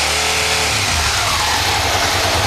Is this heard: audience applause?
no